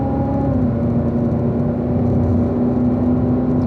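A car engine drones steadily while driving on a track, its humming pitch easing as it shifts up to fourth gear, with a continuous close rumble and no talking.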